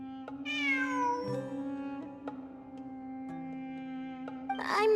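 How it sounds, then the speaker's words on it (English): A cat meows in the video game Genshin Impact, several clear drawn-out meows over a steady synthetic game tone, with a louder cry at the end and no talking. "It really is a cat"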